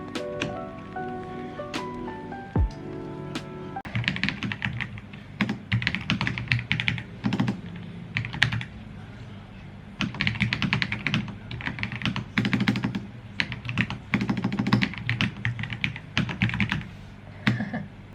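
Someone types steadily on a 60% mechanical computer keyboard without arrow keys, with a rapid, clicky clatter that comes in bursts with short pauses, close and fairly loud.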